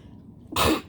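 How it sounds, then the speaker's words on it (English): A single short, sharp burst from one person, a sudden explosive breath after a moment of quiet, close and loud. "Oh, I gotta sneeze."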